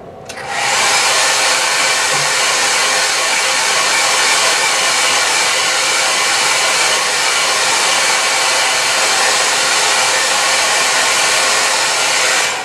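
A hair dryer blows steadily on a wet watercolor painting, a loud, close, continuous whooshing roar that switches on and holds an even pitch throughout.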